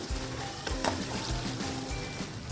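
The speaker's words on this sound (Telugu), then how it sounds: "ఇప్పుడు టమాటా కూడా ఫ్రై అయిపోయింది." Tomatoes fry in a kadai for a fish curry, giving a steady, close sizzle with a faint stir and clink of utensils now and then.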